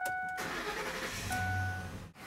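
A Ford Triton car engine with a misfire cranks and starts, loud and close, then settles into a rough idle.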